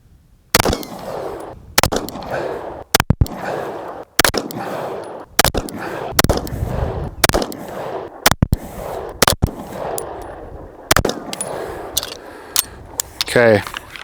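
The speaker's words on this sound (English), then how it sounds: "This is just going to be slow, controlled fire." Wilson Combat Project 1 pistol fired slowly at a 30-foot range, sharp loud single shots spaced about a second apart, roughly ten in sequence, each with a brief ringing decay.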